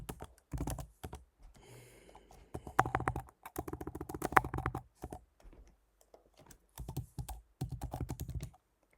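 An email address is typed on a computer keyboard in quick bursts of close, clattering keystrokes broken by short pauses, with no talking.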